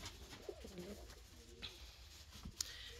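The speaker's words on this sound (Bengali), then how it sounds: "এই যে বুনো জ্বালালি কবুতরগুলো প্রচুর ভয় পায়" Wild pigeons coo softly in a village setting, giving a few low, muffled calls against quiet background noise with faint scattered clicks.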